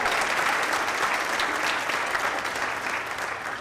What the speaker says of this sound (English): how about one more round of applause for Ian?